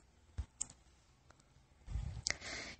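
Mouse clicks on the Generate button in the 4NEC2 antenna optimization software, a few faint, sharp clicks spaced apart over a quiet background, followed by a brief burst of handling noise.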